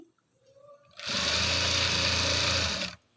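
A sewing machine runs a top stitch on fabric piping: one continuous loud mechanical whirr of about two seconds that starts and stops abruptly, with quiet surroundings before and after.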